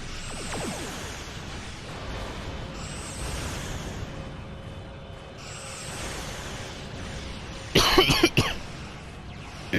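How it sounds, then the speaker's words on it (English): One short burst of harsh, loud coughing comes late, close to the microphone, over a quiet background of faint hiss and soft game sounds. "I'm just coughing all through this video."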